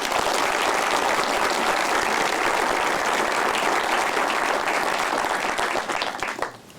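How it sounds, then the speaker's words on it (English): Audience applause at a retirement ceremony, a dense, steady wash of many hands clapping at full strength for several seconds before thinning out and fading at the end. "Please give them a round of applause."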